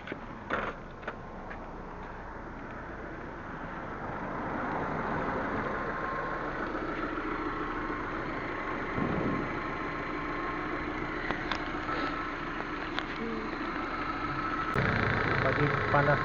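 A Proton Waja MMC car engine idles while warming up during idle repair work, a fairly faint, steady mechanical hum with small clicks and clanks. A person talks over it.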